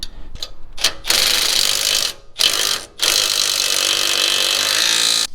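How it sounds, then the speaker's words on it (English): A needle nose vice grip works the sway bar link nut on a Toyota Tundra, producing loud, close, grinding metallic ratcheting in long sustained stretches broken by a few short pauses. "I just use a needle nose vice grip and that should work"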